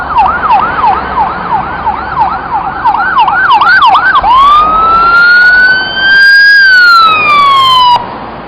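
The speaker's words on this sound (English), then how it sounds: "The ambulance arrives on scene." Ambulance siren arriving at a crash scene, a loud wailing yelp cycling rapidly for several seconds before shifting into a long, slow rising and falling wail that cuts off at the end.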